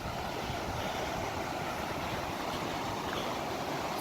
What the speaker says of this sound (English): coming up to a waterfall here.